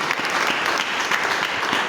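Applause from a church congregation, a continuous dense wash of many hands clapping at once, loud and even throughout with no voices over it.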